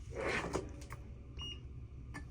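Faint, short electronic beeps from a digital multimeter's continuity buzzer sound twice over quiet rustling and handling noise, while testing a faulty welding machine.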